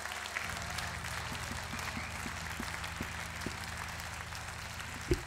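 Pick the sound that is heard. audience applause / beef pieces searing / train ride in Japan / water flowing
audience applause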